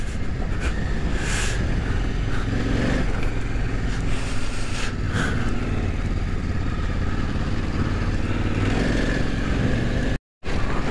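An enduro KTM motorcycle engine drones steadily and loudly while riding off-road on a rough dirt track, with a brief dropout near the end.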